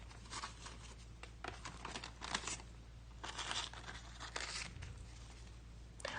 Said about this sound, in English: I just start cutting rectangles without measuring anything with my scissors.